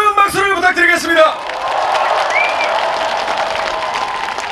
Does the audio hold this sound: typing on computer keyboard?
no